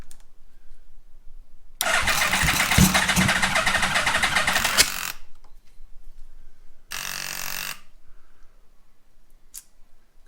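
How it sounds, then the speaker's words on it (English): Yamaha Vmax motorcycle, cold and reluctant to start, being cranked: a loud starter whirr of about three seconds, then a shorter second crank attempt after a pause, close by with no talk. "Of course now it doesn't want to start."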